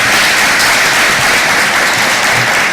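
A room of people gives loud, dense, sustained applause for the Regional Prisons Commander, Nairobi, at a Kenya Prison Service SACCO workshop.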